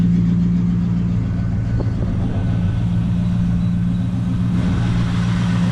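A car engine fitted with a newly installed ported phenolic carburetor spacer idles steadily just after starting, a close, even low rumble with no talking over it.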